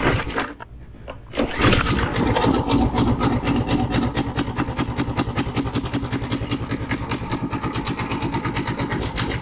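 A clapped-out Doodlebug minibike engine with its governor bypassed sputters briefly, goes quiet, then catches and runs loud and steady with a rapid, throbbing beat.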